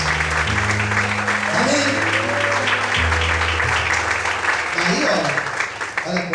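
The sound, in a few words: applause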